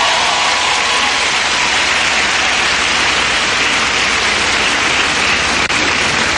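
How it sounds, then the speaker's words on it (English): A university audience in Jamaica applauds continuously, a dense, loud wash of clapping that fills the whole stretch with no break and no voices. "Can everybody please give Aubrey a big round of applause for the great introduction?"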